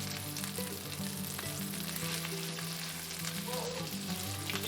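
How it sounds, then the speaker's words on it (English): Meatballs sizzle in a frying pan and are turned one by one with tongs: a steady, moderately quiet frying hiss with faint clicks and scrapes of the tongs, and no voices. "When it comes time to flip the meatballs, I like to use just a pair of tongs like these"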